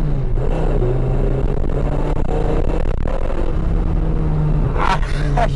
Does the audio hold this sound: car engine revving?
yes